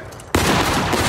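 An infantry line fires a musket volley in War of Rights, a Civil War battle game, with one sudden loud crash of many shots at once that rolls into a sustained rumbling echo.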